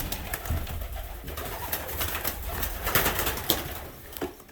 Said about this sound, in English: Looking at some of his beautiful birds.